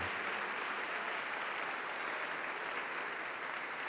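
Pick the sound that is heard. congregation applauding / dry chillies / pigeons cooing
congregation applauding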